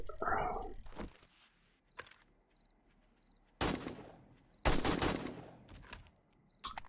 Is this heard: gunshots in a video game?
yes